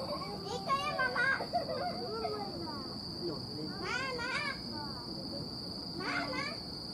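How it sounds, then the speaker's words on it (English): Steady high-pitched cricket chirring runs through the whole scene at a constant level, with occasional bird calls and faint voices mixed in. "Can you hear the crickets?"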